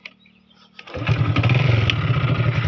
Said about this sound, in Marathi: ही किक स्टार्ट आहे, सेल्फ स्टार्ट नाही.